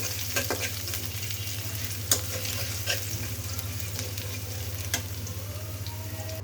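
Whole spices and ginger frying in oil give a loud, continuous sizzle, up close, with a low steady hum underneath and a few sharp clicks of stirring scattered through; nobody speaks.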